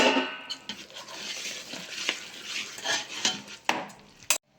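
A spoon scrapes and stirs in a pan as acacia gum is added to melted ghee and jaggery, with soft sizzling and a few sharp clinks of metal, close and fairly quiet.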